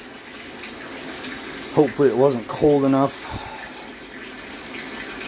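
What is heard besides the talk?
water running from a tap at deer camp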